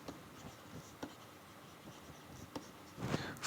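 Writing on a board during a geology lecture, soft scratchy strokes and light taps scattered across a quiet room, faint and intermittent, with a slightly louder scrape near the end and no speech.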